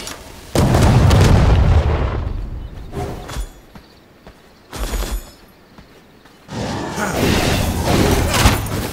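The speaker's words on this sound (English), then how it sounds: "Lots of explosions on the ground." Heavy booming explosions on the ground in the video game V Rising, several loud blasts in separate bursts with quieter gaps between, no talk.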